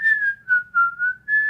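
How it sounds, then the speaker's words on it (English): Cheerful melodic whistling from a Snow White movie scene, a clear pure tone in several short sustained phrases, close and prominent over a faint low background. "I like the whistling in this part."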